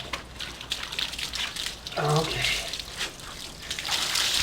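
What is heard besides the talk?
water being poured over a German Shepherd to rinse suds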